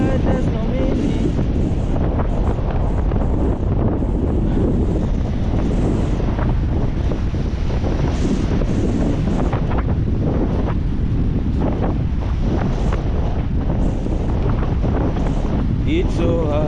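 Strong wind at Diana Beach batters the microphone in a loud, constant roar with gusty rumbling that drowns out any other sound.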